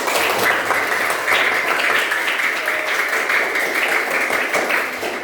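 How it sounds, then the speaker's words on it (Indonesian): Applause from a group of schoolchildren during a lesson, dense continuous clapping that fills the whole stretch at a fairly loud, even level with no talking over it. "Tepuk tangan untuk semuanya."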